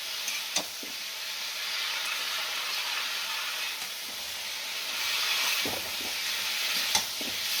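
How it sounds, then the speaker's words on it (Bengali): Bottle gourd sautéed with salt in a pan gives a steady close sizzle and hiss throughout, with a few sharp scrapes and clicks of a utensil against the pan. "এটা ভালো করে কষে নিই"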